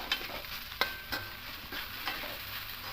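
Homemade pasta with bhujia being stirred and mixed in a pan, soft scraping and tapping of a spoon at irregular intervals over a faint sizzle, quiet and close with no talking.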